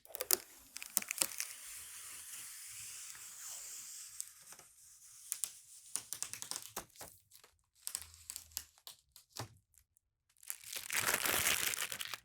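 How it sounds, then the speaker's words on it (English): Protective plastic film gets peeled off a new TCL TV: bursts of crinkling and crackling plastic with short gaps between them, then a louder rustling stretch near the end, all close and with no voices. "I think I'm gonna go ahead and do the peel and reveal"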